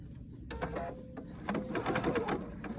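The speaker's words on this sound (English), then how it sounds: "I'm gonna stitch all the way to the end of my fabric." A sewing machine stitches a 1/4 inch seam along a lined fabric pocket, its close, rapid mechanical chatter starting and stopping in short bursts over a low background hum.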